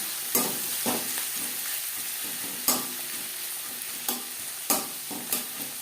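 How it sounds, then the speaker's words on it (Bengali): Two onions frying in oil left over from frying katla fish, a steady sizzle broken by several sharp scraping stirs of a spatula in the pan, close and without talk. "মাছ ভেজে নেওয়া তেলে দিয়ে দেব 2টো পেঁয়াজ"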